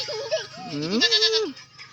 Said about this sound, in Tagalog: nakita na ni Tisay yung kambing niya